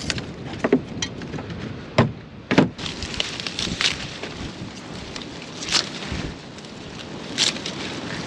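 Wind gusts across an open farm field on a damp day, buffeting the microphone in loud irregular bursts over a constant rushing background.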